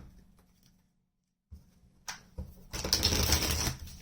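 Tarot cards being shuffled during a reading: a pause, a few soft taps, then a rapid close riffle of cards building to a continuous fluttering rush.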